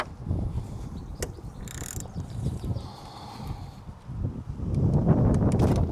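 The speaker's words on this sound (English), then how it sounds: "just use your ratchet" Ratchet clicks tightening the oil filter cap on a Mercedes SL R230, with irregular mechanical clicking and rattling close by alongside handling noise.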